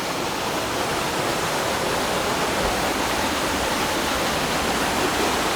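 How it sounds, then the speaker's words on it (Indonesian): Steady, loud roar of falling water, a continuous broadband rush with no breaks, close by and filling the whole scene. "Oh, ada air terjun."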